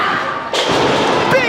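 A wrestler slams hard onto the ring mat from a spinebuster during a professional wrestling match, one loud heavy thud followed by crowd noise and excited commentary over it.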